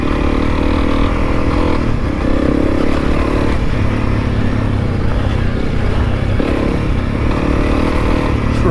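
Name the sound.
Honda CRF300L motorcycle riding on dirt trail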